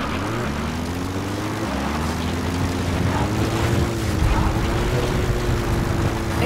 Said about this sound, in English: The support helicopter requested.